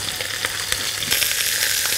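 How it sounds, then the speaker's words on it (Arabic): Lamb neck browning together with other ingredients in a frying pan: a constant close hiss of sizzling oil that grows noticeably louder partway through, with a few faint stirring taps and no voices. "نحمرهم مع بعض."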